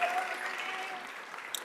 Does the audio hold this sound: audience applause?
yes